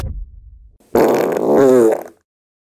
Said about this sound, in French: Quelqu'un a pété sur mon sandwich.